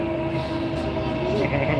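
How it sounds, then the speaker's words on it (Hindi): Inside a moving metro train, a steady, loud rumble and hum of the carriage fills the whole moment without a break. "मेट्रो में बैठा हूँ।"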